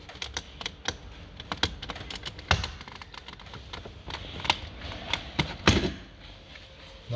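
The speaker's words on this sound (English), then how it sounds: "As it starts to pop away, just work around using your trim tool." Plastic trim clips on the front door card of a VW Tiguan Mk2 are popped off with a trim tool, giving a series of sharp, close clicks and snaps at irregular intervals over quiet handling noise.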